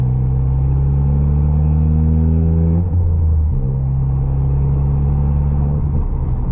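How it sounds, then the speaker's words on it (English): Deep, steady exhaust rumble from a straight-piped Ford Fiesta ST180 under load, heard from inside the closed cabin, droning loudly with a brief dip in pitch midway before settling back into a resonant hum. "this is all just sort of cabin noise with the rumble at the back"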